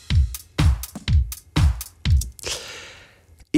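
Simple electronic drum beat programmed in Bitwig Studio 3: four heavy kick-and-snare hits in an even pulse, a longer crash-like tail, then one more hit, loud and close.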